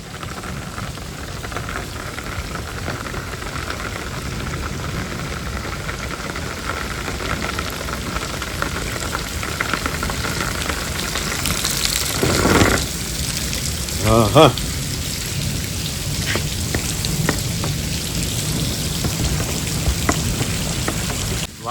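Torrential rain pours down on a farm, a steady dense hiss that fills the whole stretch, with a brief voice and a few thumps partway through.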